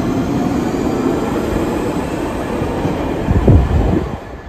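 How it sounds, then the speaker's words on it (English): London Underground Central line train pulling away from the platform, a loud steady rumble with rising wheel noise and a brief squeal before fading slightly. "a train is just leaving, but there's one on the other side"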